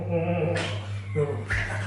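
A dog whimpers and yips in short, whiny bursts with a steady tonal hum underneath, close to the microphone and fairly loud, with no talk.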